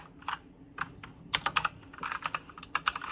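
Close, crisp typing on an Onn gaming keyboard: sparse single key clicks at first, then denser irregular bursts of rapid keystrokes, with no voices.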